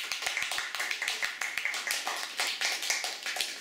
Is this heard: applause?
yes